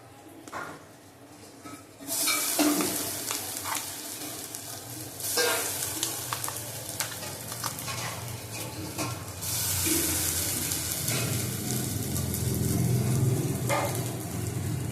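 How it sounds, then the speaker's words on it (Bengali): Bottle gourd peel and prawn heads fry in a pan while being stirred, with steady sizzling and repeated scraping strokes building louder over about fifteen seconds, close and with no talk. "আর একটু নেড়ে নেবো।"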